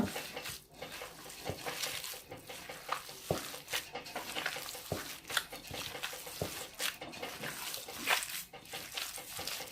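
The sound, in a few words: mixing meatball mixture with olive oil by hand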